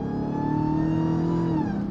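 A 2021 Dodge Charger Redeye with a Legmaker intake revs hard, its engine climbing in a loud, close, rising growl with a steady harmonic whine before easing off at the end.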